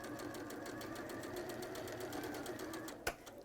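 A sewing machine runs steadily as it stitches a strip of fabric onto a project, producing a fast, even, rhythmic whirr close by, with a sharp click near the end.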